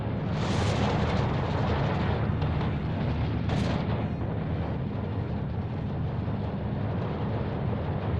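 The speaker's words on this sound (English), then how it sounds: "These two mortars were really annoying." Mortar fire in a Soviet-divisions strategy video game: a steady roar of dense, continuous artillery blasts with two sharper booming bursts standing out early, loud and close, no talk.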